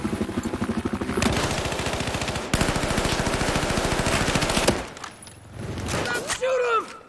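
Rapid automatic gunfire in the video game Battlefield 4, long loud bursts of dense shots followed by quieter game sounds and a brief voice.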